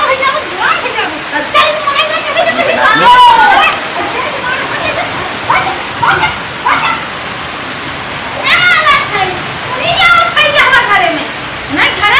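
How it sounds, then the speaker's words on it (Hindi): Heavy rain pours down as a steady, loud wash of hiss that never lets up, with people talking over it. "इतना बारिश होत बा"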